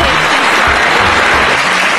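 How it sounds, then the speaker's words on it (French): Congregation applause at a church gathering, a loud continuous wash of clapping that fills the space without letup for its whole length. "Applaudis, s'il vous plaît."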